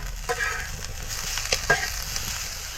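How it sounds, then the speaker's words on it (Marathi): Onion, grated coconut, ginger and coriander stir-fried in a pan, a soft steady sizzle broken by a few scraping utensil strokes, fairly close and moderately quiet. "आता हे खोबरं पण, आलं पण, कोथिंबीर सगळं असं परतायचं बघा"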